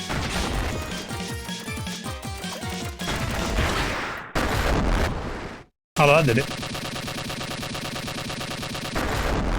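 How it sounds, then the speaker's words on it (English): Rapid bursts of gunfire and heavy blasts from explosion shots and single shots in the side-scrolling video game Iconoclasts, dense and loud against game music, with a short silent gap midway and a brief spoken remark. "the big explosion shot does a fuck ton more damage than the single shot"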